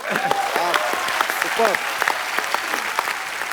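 Studio audience at a Hindi comedy talk show breaks into loud, sustained applause, dense clapping continuing steadily throughout with a few raised voices mixed in.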